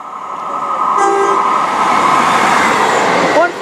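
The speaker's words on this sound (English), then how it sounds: "Okay, passing through. It's a late train." A late passenger train runs through Severn Tunnel Junction station, a loud, steady roar of wheels and carriages close by, with horn-like tones near the start and a brief squeal at the end.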